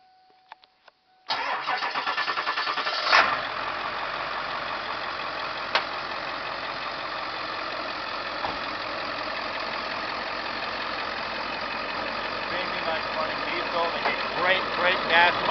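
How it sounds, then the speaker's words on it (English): A 2004 Ford E-350 Super Duty van bus with a wheelchair lift cranks over and fires up, then settles into a steady, fairly loud idle that runs on without talk. "I will start the truck up so you can hear the truck run"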